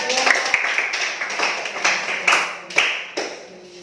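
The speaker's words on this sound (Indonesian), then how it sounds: "Tepuk tangan kepada" Audience clapping at a school class session, a scatter of hand claps with several sharper bursts building over a few seconds, with faint voices mixed in underneath.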